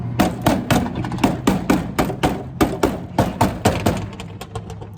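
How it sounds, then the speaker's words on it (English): A metal multi-purpose hammer knocks hard water deposits loose in the pan of a Mastercool commercial swamp cooler, giving about twenty sharp, evenly paced blows that ring close and loud with no talk. "I knocked some more hard water deposits loose with my trusty multi-purpose hammer, screwdriver, and wrench here."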